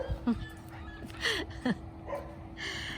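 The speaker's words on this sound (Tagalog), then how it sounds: "yung aso ko nag-ingay na naman sila kasi nakakita ng tao" Several backyard dogs make noise after seeing a person, giving short yips, whimpers and sharp barks in scattered bursts, fairly close, over a faint steady hum.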